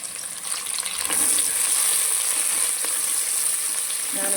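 Onion hitting hot oil and ghee with garam masala in a pressure cooker, a loud continuous hissing sizzle that swells after the first second and holds steady, close up.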